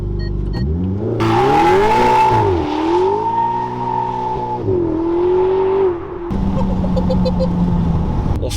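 A Ferrari revs hard from a standing start, its engine note climbing and wavering loudly as the tyres spin and smoke, then the revs settle and surge again in a continuous close roar.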